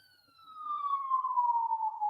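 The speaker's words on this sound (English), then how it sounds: "do you hear that siren past my house?" Emergency siren passing by a house, a single descending wail that rises from faint to steady and loud as it goes by, with no talk over it.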